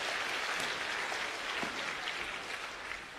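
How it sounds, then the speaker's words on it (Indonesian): An audience at a religious talk claps for a priest, a dense, steady burst of applause that stays fairly even and then fades slightly. "Tepuk tangan untuk Romo Effendi"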